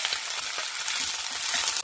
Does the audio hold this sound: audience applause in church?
no